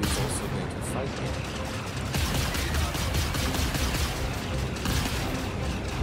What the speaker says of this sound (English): he's shooting at a civilian ship